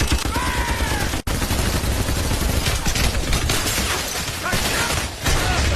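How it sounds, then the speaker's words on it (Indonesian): Heavy M2 Browning machine gun fire, a dense sustained barrage of overlapping shots filling the whole stretch, loud and close with almost no pause. "Yosef menyuruh pasukannya untuk membuka senjata berat yang mereka bawa, yaitu M2 Browning alias senapan mesin dengan peluru berkaliber besar"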